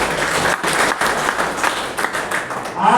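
A crowd at a Congress minority team gathering in Chandigarh claps in a dense burst of applause that carries through the whole moment.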